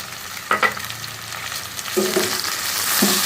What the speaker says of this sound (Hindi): घी में अच्छे तरीके से भूनेंगे।